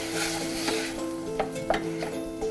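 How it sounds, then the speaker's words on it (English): Tomato sauce is stirred in a pan: a soft, steady sizzle with a few light scrapes and knocks of the spoon against the pan. "give that a quick stir"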